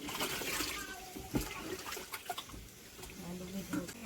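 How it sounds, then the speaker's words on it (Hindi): Potatoes being washed in water in a home kitchen while cooking Bihari-style baigan adouri; steady splashing and trickling runs throughout, with intermittent louder sloshes, close by. "साथ ही साथ आलू भी धो ली"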